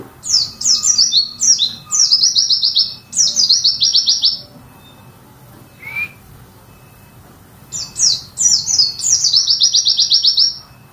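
An oriental white-eye sings loud, rapid bursts of high, sweet twittering phrases close by, with short pauses between the bursts and a brief call midway.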